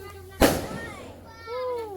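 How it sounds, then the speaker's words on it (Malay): A single sharp firework bang bursts close by at an open house gathering, followed by a fading crackle, with children's voices chattering around it. "Bunga api."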